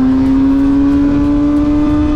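A Kawasaki Ninja ZX-6R sport motorcycle engine runs loud and steady at high revs, close up, as a strong sustained drone with no voices over it.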